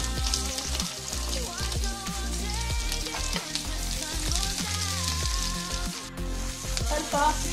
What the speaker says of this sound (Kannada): ಈರುಳ್ಳಿಯನ್ನು ಫ್ರೈ ಮಾಡಿ